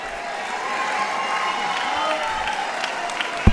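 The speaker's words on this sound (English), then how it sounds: "Having a round of applause for our two fighters." Crowd at a fight event applauding and cheering for two fighters after the bout, a sustained roar of clapping and voices with a sharp thump near the end.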